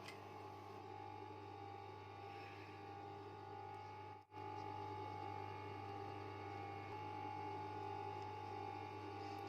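A sewing machine stitches a six-piece bed sheet set, running in a steady, continuous mechanical whir with a constant hum, close and alone, with a single brief stop midway.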